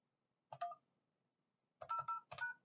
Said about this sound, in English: you'll press your voicemail key, enter your passcode